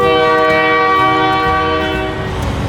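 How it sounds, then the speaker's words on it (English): A passing train sounds its horn loudly and steadily in a sustained blast, with rumbling rail noise underneath near a restaurant in Hatch, New Mexico. "There's a train, I guess."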